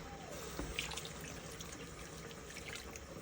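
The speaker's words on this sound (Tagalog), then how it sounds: "Dagdagan pa natin ulit kasi medyo bitin yung tubig." A steady stream of water runs and splashes into a cooking pot of arroz caldo, a constant soft rushing with a few faint drips, fairly quiet and without speech.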